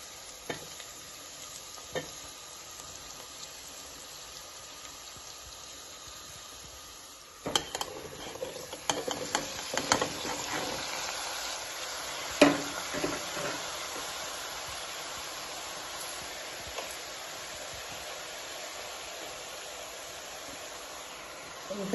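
Eggplant pieces are added to hot oil alongside potatoes for curry, setting off a sizzle with scraping stirs and clinks of a utensil against the pan, a steady frying hiss underneath.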